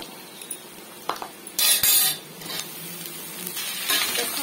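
Diced potatoes stirred and fried in a pan for an aloo bhindi bhaja: a low sizzle under sharp scraping bursts of a spoon against the pan, loudest in a roughly half-second surge near the middle, with no talking.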